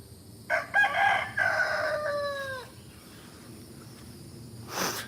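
A large rooster crows once, fairly close and loud, its drawn-out call rising then trailing off, followed by quiet and a faint rustle.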